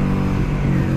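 A Kawasaki Vulcan S fitted with a performance exhaust line gives a loud, deep, steady engine rumble at close range, lasting about a second.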